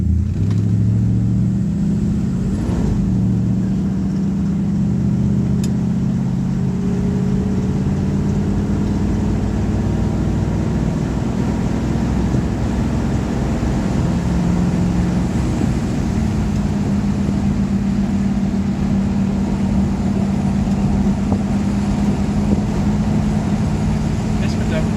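An old car nicknamed Grandma out on a test drive, its engine humming steadily with low rumble and road noise throughout, while people talk inside the cabin.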